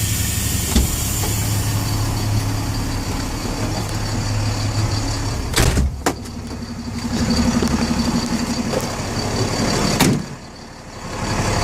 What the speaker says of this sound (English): with the window down to keep the engine running